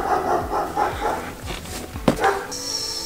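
A small dog lets out a few quick yips and barks, close by, with a short whimpery edge between them.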